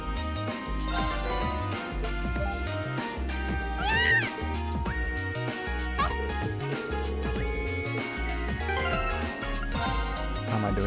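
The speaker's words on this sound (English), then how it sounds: "Cat." Cat meows in the Trails of Cold Steel video game, a couple of short rising cries heard over continuous game music with a steady beat.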